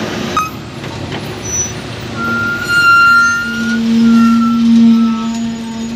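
A heavy Tata truck, a VS4, working its way out through loose soil, its engine droning loud and close with rising and falling revs, a tonal whine and faint beeps over rumbling movement.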